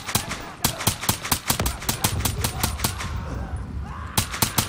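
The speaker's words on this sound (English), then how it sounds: "I'm just running in and shooting at their faces." Rapid gunfire rattles in the Call of Duty Black Ops 3 campaign, with loud close bursts of automatic shots in an uneven rhythm, continuing through the whole stretch.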